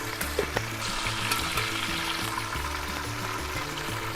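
Mustard seeds and curry leaves fry in hot oil for a Kerala chicken curry, a loud, continuous close sizzle with scattered sharp pops and crackles, no voices.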